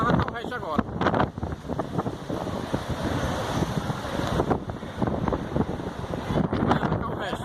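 Strong gusting wind in Fortaleza, a dense, steady roar buffeting the microphone throughout, with people talking over it.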